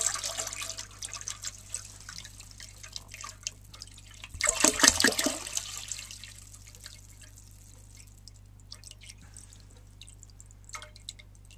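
A gallon of water gurgles and splashes as it is poured into the tank of a 1952 Eljer Sylenta toilet, a loud burst at first that tapers into faint drips and trickles.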